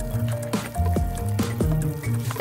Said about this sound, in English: Remove the parts from the pen, then fill the casing with glue.